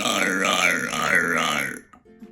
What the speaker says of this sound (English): changing the shape of your lips when you're burping changes the sound that comes out